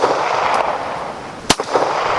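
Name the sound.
Ruger P89 pistol gunshots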